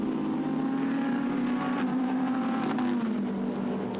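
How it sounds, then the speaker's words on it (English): Lamborghini Super Trofeo race cars running at the Nürburgring, a sustained loud engine drone with steady tonal whine, pitch slightly shifting as cars move along the track, no talk over it. "So the cars head towards the timing line."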